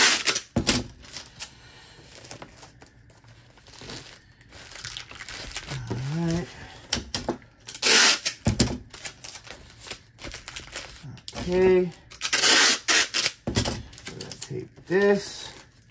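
Packing tape being pulled and applied to join cardboard packaging for shipping plates, heard as loud ripping tape pulls and crinkling cardboard handling in irregular bursts, mixed with brief stretches of speech.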